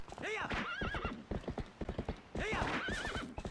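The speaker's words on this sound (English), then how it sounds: "Onwards, my brave steed." Horse galloping in Zelda: Twilight Princess, quick rhythmic hoofbeats with two loud whinnies over them, mixed with a voice.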